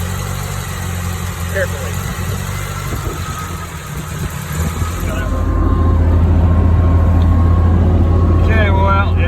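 A car engine runs with nylon stockings melted together as a makeshift fan belt, idling as a steady low hum that grows into a louder, rougher drone, while a person speaks briefly over it.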